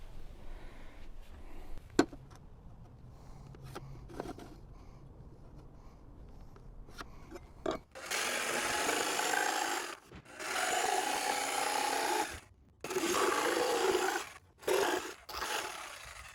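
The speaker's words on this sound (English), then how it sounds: "I simply marked to where I need to cut out for the drain, and I will do that with a jigsaw." A jigsaw cutting a drain cutout in a shelf for an 80/20 aluminum van cabinet, with loud, rasping blade bursts that start and stop several times after quieter handling noises.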